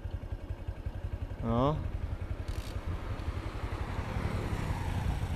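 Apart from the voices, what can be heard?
motorcycle being kick-started without an electric starter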